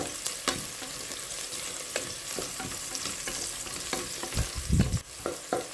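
Cinnamon, cardamom and cloves frying in ghee for ghee rice, a soft steady sizzle close by with occasional scraping stirs and a louder stir toward the end.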